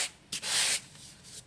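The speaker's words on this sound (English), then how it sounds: "do first is to sand off some of that glossiness." Sandpaper scrubbed by hand over a glossy painted surface, moving in all directions, giving a few short rough hissing strokes with one longer, louder pass in the middle.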